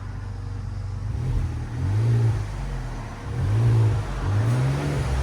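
A 2016 Ford Expedition XLT with the 3.5L twin-turbo EcoBoost V6 and stock exhaust runs with a low, muted hum, swelling in several short, gentle revs before settling back, close by with no voices.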